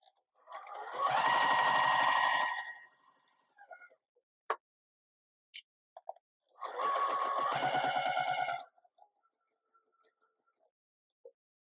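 Sewing machine stitching a zipper pouch, running in two short bursts of fast, close mechanical whirring, with quiet ticks and clicks of handling in between.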